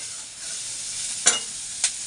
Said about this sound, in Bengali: যে না তেলে বেগুন দিয়েছি, দেখো তেল শুকিয়ে একদম বেগুনে সব তেল টেনে নিয়েছে।